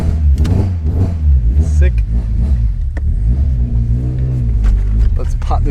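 A Toyota KE70 with a 4AGE engine runs and revs close by after its fouled plugs were dealt with, a steady loud rumble with rising revs under continuous talking.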